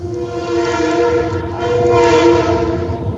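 A train passes close by, a loud sustained horn-like tone over rumbling wheels that swells slightly and holds for a few seconds, with no talking.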